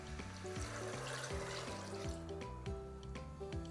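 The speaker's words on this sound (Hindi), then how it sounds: "उसके अंदर स्ट्रेट अवे जाएगा दूध" Milk pours into a pressure cooker full of carrots for gajar ka halwa, a steady liquid trickle under background music throughout.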